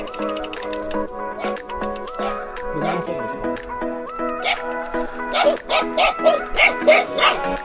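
A dog barks in repeated short bursts at a rural trail-ride stop in Rodriguez, Rizal, growing more frequent toward the end, mixed with animal cries and people talking nearby.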